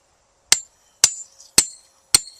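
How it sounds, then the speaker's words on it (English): Four sharp, evenly spaced metallic strikes from a 4-pound sledgehammer driving a tent stake into the ground outdoors, each blow loud and close with a short ringing decay, no voices. "That's a 4-pound sledgehammer. It's perfect for this job."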